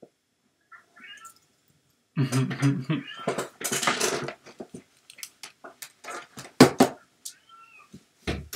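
A cat in the game Tiny Room Stories meows in a burst of drawn-out cries, followed by scattered softer sounds and clicks, mixed with someone speaking in French.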